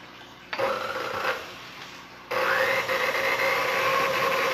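An electric mixer beats chocolate cake batter in a bowl, a steady motor whir that starts abruptly, eases off, then kicks back up louder and continues humming evenly, close by with no talking.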